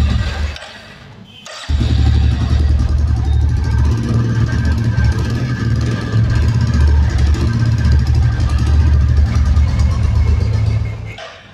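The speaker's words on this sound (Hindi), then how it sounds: "इसके एग्जॉस्ट की साउंड सुना देते हैं कि कैसी आती आवाज़।" A 2023 Royal Enfield Classic 350 with its J-series engine and company-fitted silencer starts after a short crank, then idles with a loud, close, steady exhaust thump that fades as the engine cuts off.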